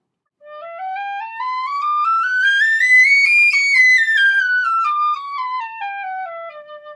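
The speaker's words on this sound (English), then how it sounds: "when you first start out playing the penny whistle" An Irish tin whistle (penny whistle) in low D plays a smooth scale climbing up through its notes and then back down. The pure, bright tone sounds solo and close, with no talk.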